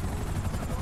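A helicopter in GTA Online gives a steady, loud, low rotor drone, continuous through a brief moment of play.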